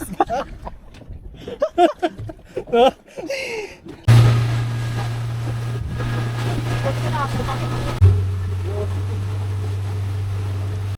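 A fishing boat pushes through big sea waves off Sta. Ana, Cagayan: people talk at first, then a loud, steady engine drone takes over, mixed with rushing wind and water and a brief surge midway.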